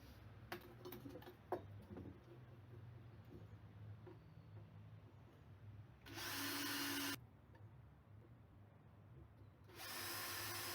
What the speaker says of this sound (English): I can't actually fit it into place until I've drilled some fixing holes in the bottom